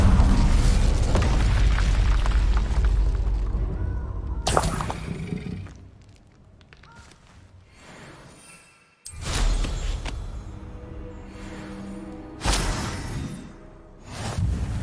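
Incendio fire spells blasting in the Hogwarts Legacy video game: loud booming, whooshing bursts of flame in repeated waves, each blast cutting in abruptly and then fading into crackling noise.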